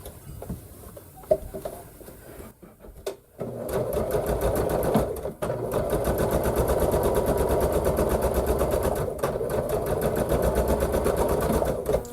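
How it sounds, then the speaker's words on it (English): A sewing machine stitches quilt seams with back stitching. A few quiet handling noises give way to a steady, loud, rapid needle chatter that runs almost continuously, with one short break, close to the microphone. "I will back stitch beginning and end of these little seams."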